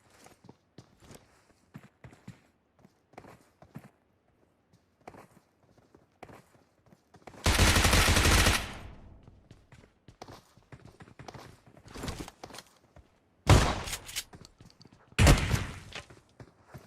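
Pump shotgun blasts in a battle royale video game come as two loud, sharp bursts near the end, after an earlier long roar and scattered footstep-like taps.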